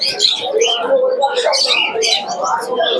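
Pigeons at the Krishnanagar pigeon market, birds chirping and cooing in dense, overlapping bursts close by, with people talking throughout the crowded market.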